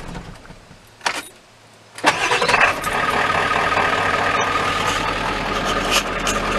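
A 1995 Ford F-350 with a 7.3L diesel, prone to hard starting, cranks briefly and fires up, then settles into a loud, steady close-up diesel idle.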